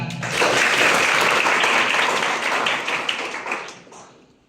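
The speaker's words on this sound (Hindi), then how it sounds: "तो तालियों के साथ स्वागत कीजिए" Audience applause welcoming special guests at a nursing institute presentation: close, dense clapping at full strength from the start, gradually fading out over a few seconds.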